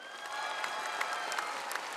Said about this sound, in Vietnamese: Một tràng pháo tay đồng nhiệt cho Trâm Anh.